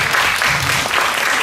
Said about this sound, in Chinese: 我们来用掌声欢迎我们的